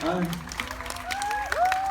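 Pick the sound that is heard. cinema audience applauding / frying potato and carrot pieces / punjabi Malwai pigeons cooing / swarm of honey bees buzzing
cinema audience applauding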